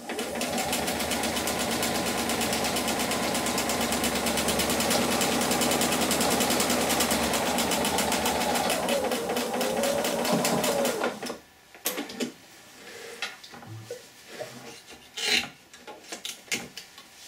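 A sewing machine stitches down the seam line on a quilt, its fast steady motor hum running close and loud for about eleven seconds before stopping, followed by a few soft handling clicks and rustles.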